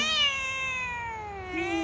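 A cat meows angrily in one long, drawn-out, wavering yowl, close and loud, with a rising note near the end, no other sounds.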